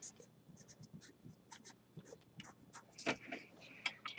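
A red marker squeaks and scratches across a printed periodic table, in short, close strokes with brief pauses between them and a couple of sharper squeaks toward the end.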